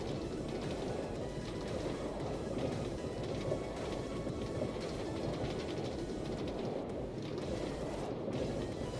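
A train running on railroad track in a video game, a steady rumbling roll with faint rhythmic clatter, continuous and moderately loud throughout.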